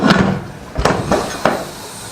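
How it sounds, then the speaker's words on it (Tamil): The metal lid of a pressure cooker is set down onto a pot of egg biryani: three or four sharp, close clanks and knocks spaced apart, with quieter handling between them. "இப்போ குக்கர் மூடி போட்டுக்கலாம்."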